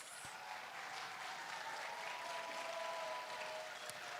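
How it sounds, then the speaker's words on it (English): Quiet, distant audience applause at a school achievement assembly honoring specialists, an even steady rush of many clapping hands with a faint sustained tone running beneath it. "please join me in giving a huge round of applause for our spectacular specialists"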